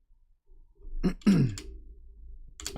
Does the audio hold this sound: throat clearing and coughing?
yes